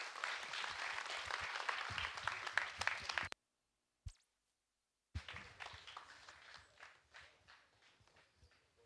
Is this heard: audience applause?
yes